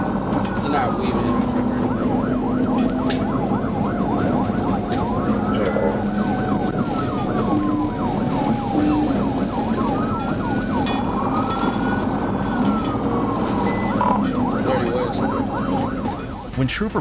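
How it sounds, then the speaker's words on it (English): A police car siren wails loudly and continuously during a high-speed chase, its rising and falling tones cycling over a constant road roar. "When Trooper Blueford turned on the lights and sirens stopped the car"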